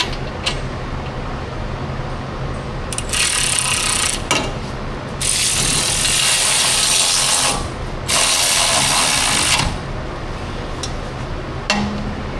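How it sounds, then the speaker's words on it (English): A large ratchet wrench loosens a bolt on a Ford 2.7 EcoBoost during an axle seal repair, producing loud, rapid, steady clicking in several long bursts separated by short pauses, close up and without talk. "Back to the big wrench. Clicky."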